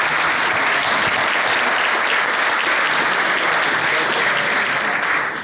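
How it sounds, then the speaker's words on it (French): A council assembly bursts into applause by acclamation, a dense, even wash of clapping from many hands held steady for several seconds before tapering slightly at the end. "Est-ce que vous êtes d'accord que nous procédons par acclamation?"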